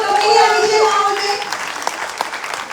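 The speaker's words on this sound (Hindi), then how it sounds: "जोरदार तालियां" Audience at a motivational stage event breaking into loud applause, dense clapping mixed with a voice and tonal sound early on, then steady clapping continuing to the end.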